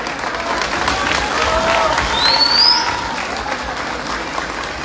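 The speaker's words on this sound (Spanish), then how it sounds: "damos un aplauso muy fuerte a nuestra amiga, la profesora María Los Ángeles Trejo Huerta" Strong, sustained applause from a crowd at a Green Party municipal committee swearing-in in Ocosingo, dense clapping with scattered cheers and a whistle rising above it, swelling midway then easing slightly.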